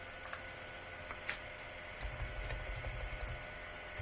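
Computer keyboard typing, a scattered series of crisp clicks and taps at close range with short pauses, over a low steady background rumble.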